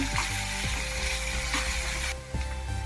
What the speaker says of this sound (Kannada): ಇದನ್ನು 1-2 ನಿಮಿಷ ಫ್ರೈ ಮಾಡ್ಕೊಳ್ಳೋಣ